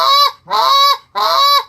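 Three loud, drawn-out goose moan calls of the kind used for goose hunting, each a nasal, honking note lasting about half a second, evenly spaced with short gaps and no talk. The calls are likely made on a goose call or by a hunter imitating geese.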